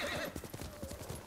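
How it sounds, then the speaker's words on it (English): Horse hooves gallop in the samurai adventure game Ghost of Tsushima, a rapid rhythmic clip-clop of steady beats heard close, with no talk over it. "Let's get back on the horse."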